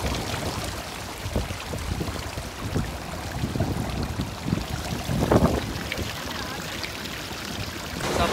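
Sea waves at the Jeddah waterfront wash in a steady, broad roar with surges of surf, mixed with wind noise on the microphone.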